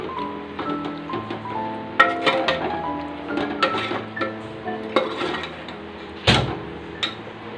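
A spoon scrapes and clinks against a metal pot while salt is mixed into mutton for Mumbai-style mutton rassa, giving irregular close knocks and rattles with one sharp loud clang near the end.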